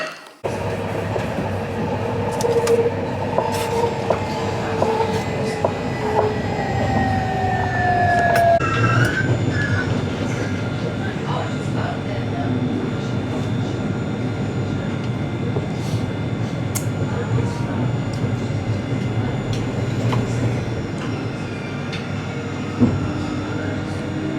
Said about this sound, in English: So that was a tram.